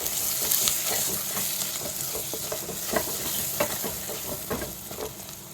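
Chili powder stirred into a sizzling curry base for fish kuzhambu, producing a loud, steady frying hiss with repeated scraping stir strokes close by, and no speech.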